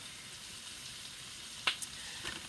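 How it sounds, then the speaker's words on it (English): Beef for stroganoff fries in a pan as a soft, steady sizzling hiss, fairly quiet throughout, with a couple of small crackles and pops near the end. "I'm just letting those fry real quick"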